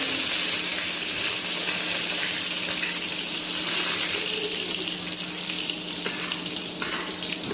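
Curry leaves dropped into hot oil with garlic produce a loud, continuous hissing sizzle that holds steady throughout, close up and without speech.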